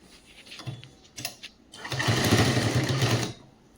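Sewing machine stitching a girls' government school uniform skirt: a couple of short bursts, then a longer steady run of rapid needle chatter at close range, with no talk.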